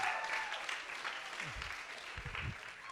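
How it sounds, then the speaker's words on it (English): Audience applause welcoming the first female guest of an office-hours interview series, a dense, steady patter of clapping throughout, with brief low voices murmuring underneath. "Round of applause."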